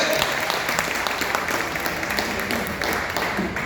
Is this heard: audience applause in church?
yes